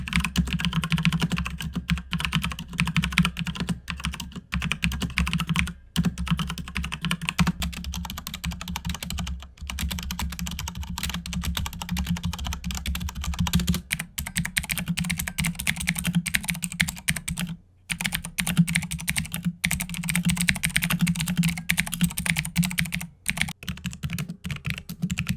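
Continuous typing on a Logitech G513 keyboard with Romer-G switches, a steady stream of soft, muted keystrokes with no voices throughout.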